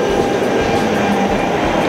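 Steady low rumble and broadband rolling noise of a train moving past in Lisbon, continuous and fairly loud throughout, with no voices.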